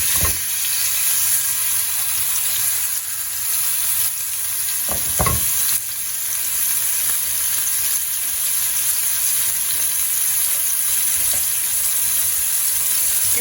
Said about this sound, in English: now we are going to grill our fish very slowly in this pan